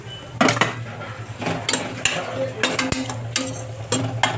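Onion sautéed in a pan with crushed ginger and garlic, a spoon scraping and clinking against the pan in an irregular stirring rhythm over a soft, low sizzle, close and alone.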